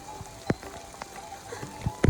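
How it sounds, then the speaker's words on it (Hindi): Hail and rain falling on a hillside farm in the Pahadi mountains, with scattered sharp impacts striking irregularly over a steady wash of rainfall, a few louder hits standing out. "भाई, बड़े बड़े ओले पड़ने लगे।"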